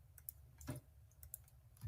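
Typing on a computer keyboard while entering justification text into a form, with quiet scattered key clicks and a few sharper taps over a low hum, no talking.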